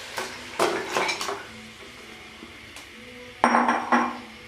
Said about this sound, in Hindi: तो अब हम इसमें मटन डालेंगे जो हमने बॉयल करके रखा था।